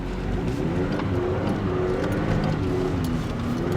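A mini truck drives through snow with a steady engine drone and some revving, heard from inside the cab at a constant, moderately loud level.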